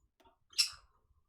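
A pet bird gives a single brief, sharp chirp, close by and alone against near silence.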